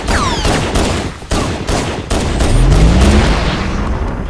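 Rapid gunfire and explosive bursts from the Halo: Combat Evolved video game, loud and dense, with repeated shots and a deeper boom rolling in toward the end.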